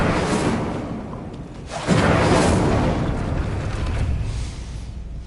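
A fiery Incendio spell cast in Hogwarts Legacy bursts out as a loud whooshing boom, swelling sharply about two seconds in and roaring steadily before easing off, with no voices over it.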